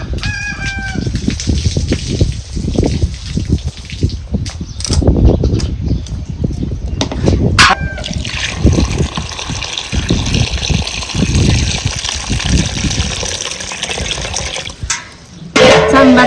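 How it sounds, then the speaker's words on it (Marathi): Water gushes and splashes loudly as it is poured out of a vessel for a long stretch, a steady pour with a brief pause near the end, while a rooster crows faintly in the background. "आता हे आपण ही पाणी ओतून काढायचं"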